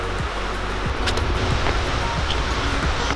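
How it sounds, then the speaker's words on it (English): Lone Creek Falls near Graskop roars as a constant broadband rush of falling water, loud and close, with wind buffeting the microphone and no clear talk. "We are at Lone Creek Falls"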